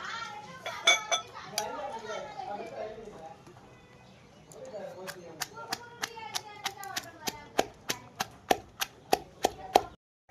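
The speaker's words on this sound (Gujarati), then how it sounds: "લીલા મરચાં, આદુનો 2-3 ટુકડા અને લસણ ફોલી મેં ધોઈ લીધું છે। હવે એને વાટી" Green chillies, ginger and garlic pounded into paste by hand, giving a run of sharp rhythmic knocks that quicken and grow louder toward the end, after some softer clattering and background voices at the start.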